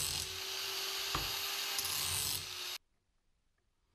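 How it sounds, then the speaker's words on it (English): Steel flat bar being cut with a power tool in a workshop, a loud continuous abrasive whine for nearly three seconds that then stops abruptly, leaving near silence. "So I started out cutting some flat bar with the same width as the shelves and cleaned up the burr with the grinder."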